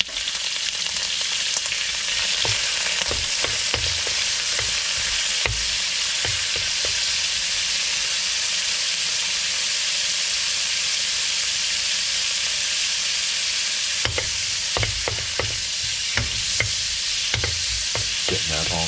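Raw shrimp sautéing in olive oil in an electric wok, a steady loud sizzle and crackle running throughout with occasional stirring scrapes and clatters.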